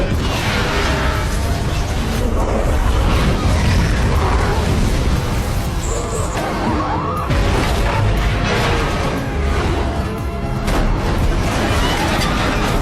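A massive explosion in a Planet of the Apes action film brings loud booms, crashing debris and metal clatter, with a dense cinematic roar throughout and shifting impacts.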